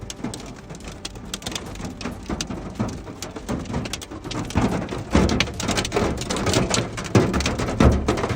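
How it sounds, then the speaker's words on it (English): Massive hailstones pelt down during a violent storm in New Mexico, a dense, continuous rattling clatter of ice striking surfaces that swells louder toward the end, with sharper individual impacts cracking through the steady roar. "the sky into a barrage of falling ice as massive hailstones crashed"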